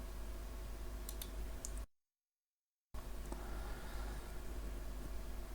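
A few sharp computer mouse clicks, one quick pair and then a single click, land faint and close over a steady low hum while VirtualBox shared-folder settings are set up for an Ubuntu guest; a brief dropout of silence follows.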